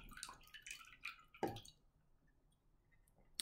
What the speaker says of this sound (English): I'm pouring the water out into the bowl.